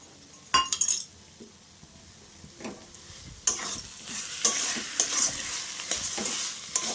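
Pea greens cook in a pan while a utensil stirs them, with a sharp clink of metal or glass early on, then a quiet pause before a hissing sizzle and repeated scraping stirs.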